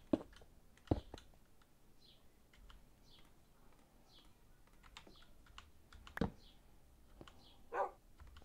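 A dog in Minecraft gives a few sharp barks spaced through the stretch, heard against steady computer keyboard typing and clicks in a quiet room.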